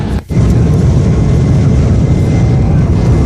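A loud, steady airplane engine drones continuously, broken by a brief dip at the start.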